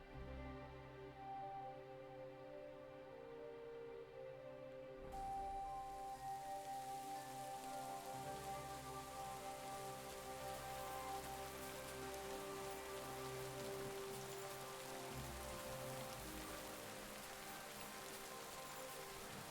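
Steady rain patters at night in the medieval game Kingdom Come: Deliverance II, a soft continuous hiss that swells after the first few seconds, with no voices.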